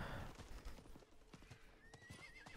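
Horse hooves clip-clop at a gallop in Diablo IV, with a horse neighing and whinnying over continuous game ambience; the hoofbeats are rhythmic and fairly close, with a rising whinny toward the end.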